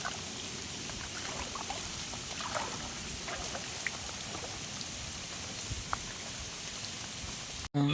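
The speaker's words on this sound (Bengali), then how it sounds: "এখনও বৃষ্টি পড়ে চলছে।" Continuous drizzle falling on a flooded courtyard where risen river water has reached the steps, a fairly close, even patter of rain with occasional louder drops and trickles, ending in a brief abrupt knock.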